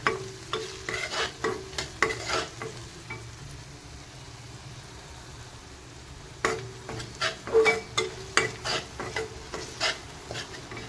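Everest mutton masala being stirred into a frying pan, a run of close, rhythmic scraping strokes over a steady sizzle, with a quieter pause midway before the stirring picks up again; no one speaks.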